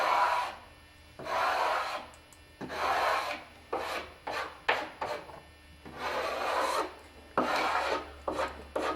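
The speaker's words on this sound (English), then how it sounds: "I'm just scraping right down." Softened paint being scraped off a surface with a scraper after applying Star 10 paint stripper, heard as repeated close rasping strokes of varying length with short pauses between them.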